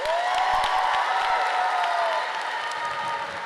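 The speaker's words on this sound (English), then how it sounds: "Can we give them a round of applause?" A crowd at a high school graduation ceremony breaks into loud applause, clapping mixed with cheers and whoops that stay dense and sustained before tapering slightly near the end.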